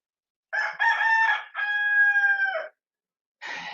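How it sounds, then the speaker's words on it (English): A rooster in a video game crows loudly and close, a long drawn-out call in two parts, followed after a pause by the start of another crow. "Chickens."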